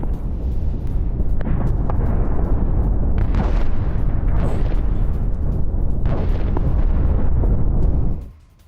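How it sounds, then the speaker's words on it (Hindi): Loud explosions after Israeli airstrikes on Damascus, Syria: a continuous heavy rumbling roar with repeated booming bursts swelling over it, then fading out at the end. "हमलों के बाद सुनाई दी जोरदार धमाके की आवाज"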